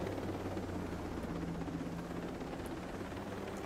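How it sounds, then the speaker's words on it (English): A helicopter in Ghost Recon Breakpoint, the tactical shooter game, keeps up a steady low rotor drone that fills the whole stretch evenly without breaks. "We're in the helicopter now."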